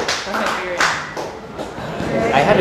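An audience at a startup pitch event in Manila claps in a short, lively burst. Individual claps are audible at first, then it thins into a scattered patter, with some murmuring voices mixed in.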